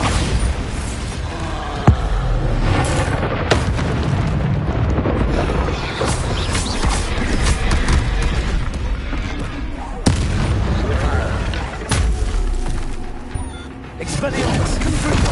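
Confringo and Bombarda spell blasts in Hogwarts Legacy, a loud barrage of booming impacts and crackling bursts layered over game music, with a voice shouting spell names throughout.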